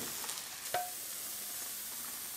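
Cheese tuna mayo lotus root bread fries in a pan as the cheese crisps and browns underneath, a steady close sizzle and crackle with a small tap or scrape, and no talking.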